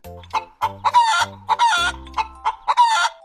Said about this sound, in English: I lay eggs and cluck all day long.